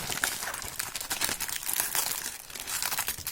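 A red plastic parcel package being opened, with close, continuous crinkling and tearing of the plastic, loud and steady for a few seconds with no talk over it.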